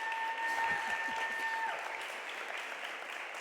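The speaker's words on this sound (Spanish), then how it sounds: "Por favor, un aplauso para Núria" An audience at a live podcast recording for Amazon Ads greets Núria Pérez with applause, a soft, even wash of many hands clapping at a distance, with a faint tonal hum running under the first half.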